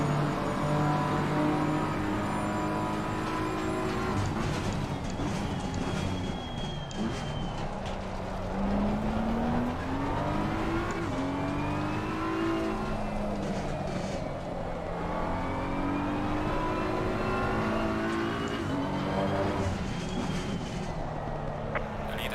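A 2022 BMW M4 GT3 race car engine in Assetto Corsa Competizione revs hard through repeated upshifts and downshifts, climbing and dropping in pitch steadily for over twenty seconds, loud and close with no talking.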